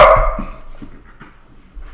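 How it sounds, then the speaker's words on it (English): A dog lets out a single loud, close bark, then softer whimpering yips and snuffles trail off into near quiet. "Stop. Stop barking."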